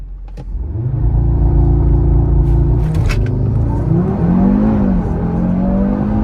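A sports car engine idles with a steady deep rumble, then the revs climb and surge as the car launches hard using launch control, loud and close.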